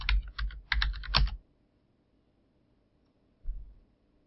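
Keys tapped in quick bursts on a computer keyboard while an address is entered into an online account form, close and clear, with a pause and one more short burst of typing at the end.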